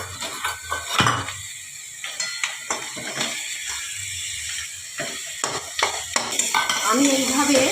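A spatula turns a rui fish head in a frying pan, with irregular clattering scrapes and knocks against the metal over a low, intermittent sizzle.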